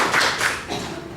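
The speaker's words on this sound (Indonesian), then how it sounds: "Tepuk tangan buat" Close, loud clapping at a campus workshop comes in a short irregular burst of a few hands, fading within a second.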